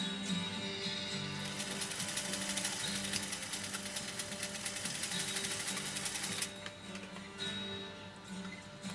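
Japanese sewing machine stitching through six layers of heavy denim, a steady close mechanical hum with rapid needle strokes that runs continuously before easing off near the end.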